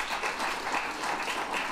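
Applause from an audience, a short, even patter of many hands clapping at moderate level throughout, with no talk over it.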